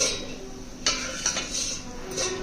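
Vermicelli tipped into hot ghee in a pan for semiya payasam, with a few sharp metallic clinks and scrapes of utensil against the pan over a light steady sizzle.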